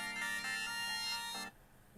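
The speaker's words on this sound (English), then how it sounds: "Got a phone call." An incoming call ringtone on a phone plays a sustained electronic tone with pulsing notes, then stops abruptly, faint background after.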